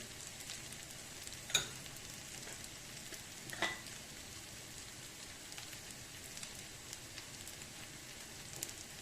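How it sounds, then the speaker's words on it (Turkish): Bulgur roasts dry in a pan for a vegetable bulgur pilaf, giving a faint, steady crackling sizzle with a couple of brief scraping stir noises standing out. "Kavruldu bulgurumuz."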